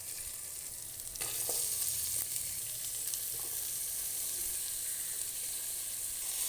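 Green chillies and chopped onion fry in a pan, giving a steady soft sizzle that grows slightly louder after the onion goes in, with faint stirring clinks throughout and no voices.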